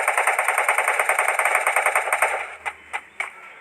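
Rapid automatic gunfire in the Free Fire video game, a fast, steady burst of evenly spaced shots followed by a few separate single shots, fairly close and with no talking.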